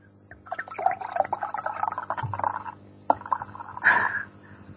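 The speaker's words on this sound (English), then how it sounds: "Can you hear the fizz?" A fizzy homemade drink is poured close by. The liquid splashes and bubbles, with crackling fizz rising toward the end.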